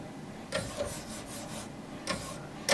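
Knife edge sharpened on Wicked Edge 1000 grit stones, a handful of short raspy scraping strokes in an uneven rhythm, close and fairly quiet.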